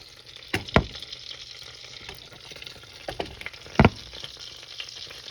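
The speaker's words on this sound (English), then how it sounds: "you can hear the butter crackling in the background" Butter crackles and sizzles steadily in a pan while chicken fries in it, with a few sharp pops and clinks standing out against the low frying hiss.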